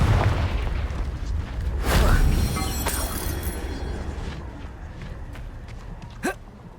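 A Confringo explosion spell goes off in Hogwarts Legacy, a loud booming blast around the two-second mark with a rumbling tail, followed by smaller pops and a sharp crack near the end, under ongoing game ambience.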